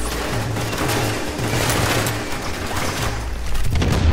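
Grenade explosions and gunfire boom throughout a video game firefight, forming a dense, loud barrage of blasts and rapid shots with heavy low rumbles that swell toward the end.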